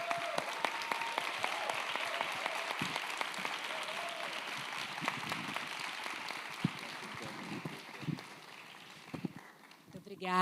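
Audience applause closes a contemporary art talk event, a broad wash of clapping that gradually thins and fades, with scattered louder claps and some voices underneath.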